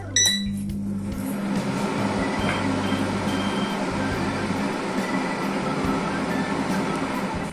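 A Koryo KHF4420 2.6-litre air fryer preheats at 200°C, starting with a few electronic beeps and then settling into a steady close fan whir with a low, slightly pulsing hum.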